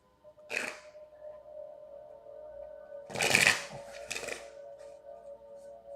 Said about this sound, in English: I actually want to get a shuffle before this last row here